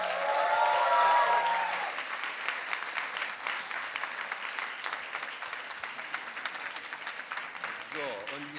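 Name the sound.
audience applause for science slam contestants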